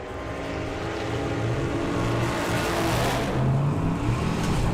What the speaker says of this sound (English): Michael blazing the tyres to 60 foot.